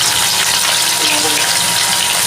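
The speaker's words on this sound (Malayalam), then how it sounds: "ഉള്ളി ഒന്ന് നമ്മൾ വാടാൻ പോകാം" Sliced onions with fenugreek seeds and a couple of cardamom pods sizzle in a hot pan of oil for beef curry, a loud, steady, close hiss with no pauses.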